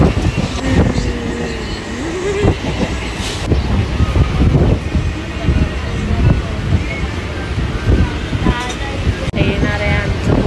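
A moving passenger train carries a steady, loud rumble and rattle of wheels and carriage throughout, with a brief squeal early on. Voices are heard over the constant noise.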